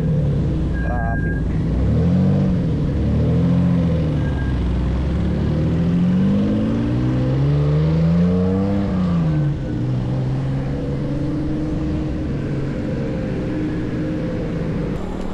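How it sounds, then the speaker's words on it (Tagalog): Road traffic passes on an upland road in Calamba: engines rumble and rise and fall as vehicles pass nearby, with one loud pass-by sweeping in and out, a constant hum underneath. "Traffic."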